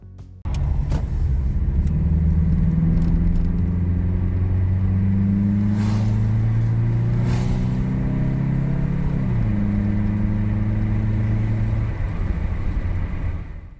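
Toyota Corolla fitted with a JDM air intake kit on a test drive, its engine droning loud and steady throughout, pitch rising through gears with a brief dip and shift midway, no talk.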